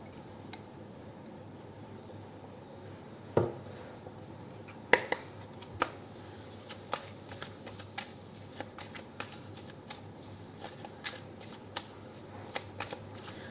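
Tarot cards are shuffled by hand in a quiet room, starting with a couple of isolated taps and then settling into a long run of quick, crisp riffling flicks close to the ear, with no talking.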